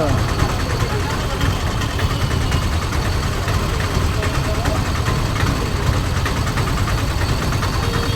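Idling engines fill a traffic jam in Mydukur, a steady broadband rumble of cars and heavier vehicles holding close and constant throughout, with people talking over it.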